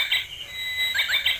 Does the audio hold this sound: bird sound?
yes